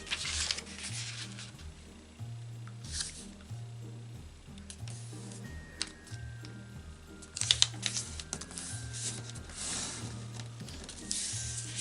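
Paper for an origami Christmas tree is creased and folded close up, giving soft crinkles and sharp rustling flicks in irregular bursts over a low rhythmic background hum, with no talking.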